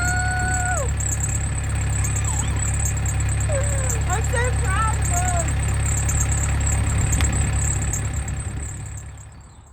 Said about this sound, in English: Ignore the squealing belt, that's a separate thing.